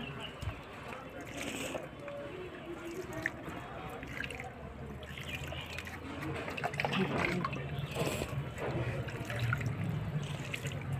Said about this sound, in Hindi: इस तरीके से पानी दे देंगे सभी प्लांटों में।